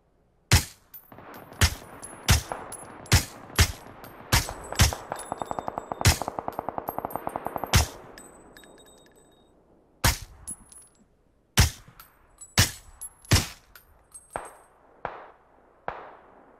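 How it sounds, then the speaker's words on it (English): Gunfire in the battle royale video game PUBG: sharp single shots spaced through the clip, a dense rapid automatic burst in the middle, then more scattered loud cracks near and farther off, with no talking. "So someone else is shooting at him."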